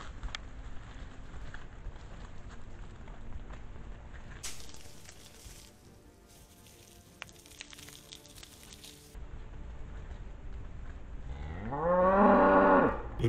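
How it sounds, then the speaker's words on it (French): A cow lows once in a forest, a single loud, drawn-out moo rising near the end after a long stretch of quiet woodland ambience. "Un meuglement bref."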